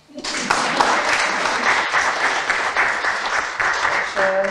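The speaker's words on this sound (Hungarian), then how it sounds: "Taps!" Audience applause breaks out abruptly and holds steady, a dense, fairly loud burst of clapping at a small-business market event in Mezőtúr.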